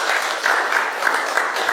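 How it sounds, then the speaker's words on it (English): An audience applauds after a science lecture on teacher competence and misinformation, a dense, steady patter of many hands clapping at moderate volume for a couple of seconds. "Please, one more round of applause."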